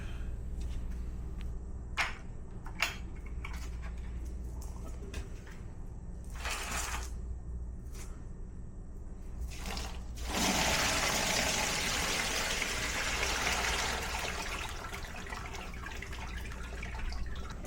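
Georgia red clay slurry poured for filtering: a few scattered splashes and drips, then a sustained louder wash of pouring liquid that runs on for several seconds, close by with no voices.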